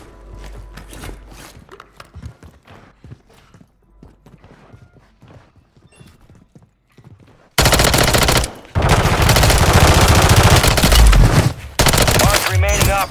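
Automatic and single gunshots from the Call of Duty Warzone video game on Rebirth Island, a quieter stretch of scattered shots and footsteps giving way to loud, dense sustained firing bursts in the second half.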